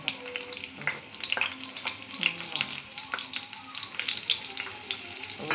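Onions fry in a pan for tomato bath upma, sizzling steadily and close while a spatula scrapes and stirs at intervals, with no voices.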